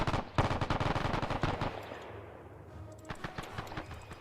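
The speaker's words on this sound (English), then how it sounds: "And they're still doing their victory shoot." Gunfire in Arma 3 from a victory shoot, rapid automatic bursts and scattered shots rattling loudly at first, then thinning out into a quieter lull before a few more sporadic shots return.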